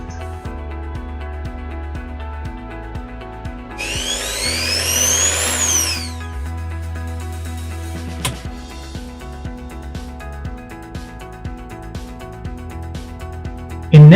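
An electric drill running on 240 V AC from a 12 V solar inverter whirs in a steady mechanical drone, with a brief higher-pitched surge partway through before settling back to an even hum.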